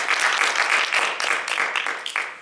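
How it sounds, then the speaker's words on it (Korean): A crowd claps and applauds steadily in a church during a Sunday service, a dense wash of hand claps filling the room for a couple of seconds without pause. "우리 한번 박수 한번 주세요."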